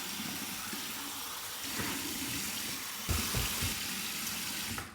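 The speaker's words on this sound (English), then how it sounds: "Go with my cold water rinse right here." Cold water runs steadily from a bathroom tap for a face rinse, a continuous close hiss that swells louder partway through, with splashing as hands break the stream and no voices.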